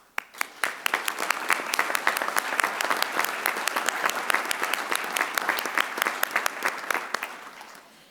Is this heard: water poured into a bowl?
no